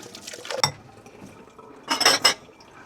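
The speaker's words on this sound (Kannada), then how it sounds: "ಇಲ್ಲಿ ಆಗಿರುವಷ್ಟು ಪಾತ್ರೆ ತೊಳ್ಕೊಂಡು ಮುಂದಿನ ಕೆಲಸಕ್ಕೆ ಹೋಗುವ." Dishes and pots being washed in a home kitchen after cooking dosa, with a few clattering, clinking bursts of metal and crockery separated by a quiet pause, close and moderately loud.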